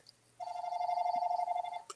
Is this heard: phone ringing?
yes